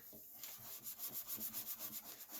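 Sandpaper rubs over the lacquer finish of a Stagg guitar to knock down high spots, a soft close-up rasp in a quick, even back-and-forth rhythm of about a dozen strokes.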